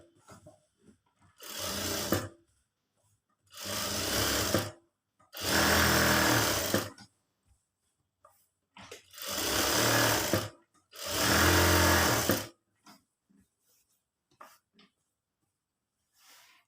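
A sewing machine stitches around the neckline of an embroidered blouse in five separate bursts of steady whirring, each lasting one to two seconds, with quiet pauses between them and no talking.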